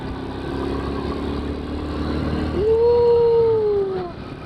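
A dog howls on a mountain road in Benguet, one rising then slowly falling wail near the end over a low engine rumble and road noise.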